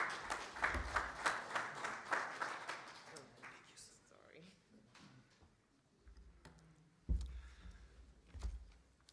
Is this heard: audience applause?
yes